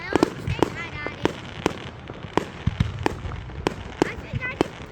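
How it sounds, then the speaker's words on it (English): Bonfire night fireworks in Elgin burst repeatedly, sharp pops and bangs spaced through the air at moderate distance, while people nearby talk and laugh over a steady outdoor rumble. "I think I just pissed off those fireworks"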